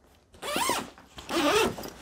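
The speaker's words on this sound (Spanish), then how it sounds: "Vamos a abrir la cremallera y os enseño lo que, lo que muestra la bolsa interiormente" A full-length zipper on a PVC spearfishing and diving bag is pulled open in two long rasping strokes, close and clear, with no talk over it.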